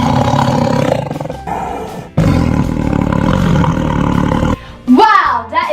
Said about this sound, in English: The tiger makes the sound